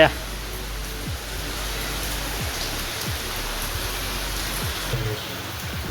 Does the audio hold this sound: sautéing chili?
no